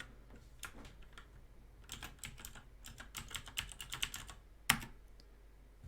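Keys clatter in uneven bursts on a computer keyboard while someone retypes a query during a Windows privilege-escalation exercise, ending with one sharper, louder keystroke near the end. The typing is close and steady, and no one speaks.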